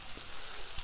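Garlic frying in coconut oil in a pan, giving a faint, steady sizzle and hiss with no talking over it.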